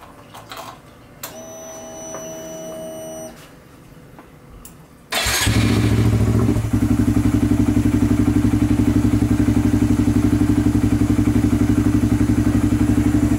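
Honda Grom motorcycle fitted with a Dobeck AFR Plus, starting up: a few seconds of clicking and a thump, then the single-cylinder engine catches and idles in a steady, loud, close rumble with no talk.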